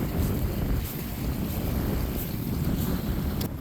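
Strong wind roars steadily across a snowy beach, blowing snow along with a loud, constant rushing buffet against the microphone.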